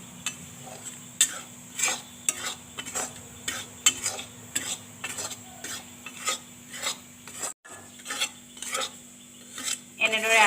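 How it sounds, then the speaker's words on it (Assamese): Wheat flour dry-roasting in a pan while a spatula scrapes and stirs it, giving a steady run of rhythmic rasping strokes with a faint sizzle, close and fairly quiet, with no talking. "আটাখিনি প্ৰথমতে ভাজি ল'ব।"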